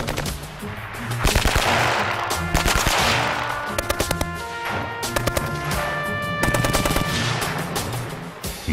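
An early machine gun with a rotating wheel in its firing mechanism fires at a tree in loud, rapid bursts, with short sharp volleys repeating throughout and no talking.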